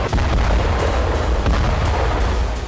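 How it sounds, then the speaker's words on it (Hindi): Artillery shelling at the front line near Bakhmut, Ukraine: repeated deep booms and bursts roll in from a distance over a continuous low rumble, with no speech. "you can hear the artillery shelling into Ukrainian position"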